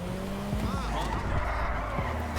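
A Euros X32 sports car in GTA 5 drives with engine tones that rise and fall as it shifts gears. Tires squeal briefly while the car corners. A voice talks over part of it.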